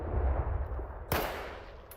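A single sharp gunshot in S.T.A.L.K.E.R. 2 cracks out midway over a low rumbling background, followed by a brief fainter snap near the end.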